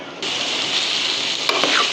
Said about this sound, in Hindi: इसको 3-4 मिनट हम इसको और अच्छी तरह से फ्राई करेंगे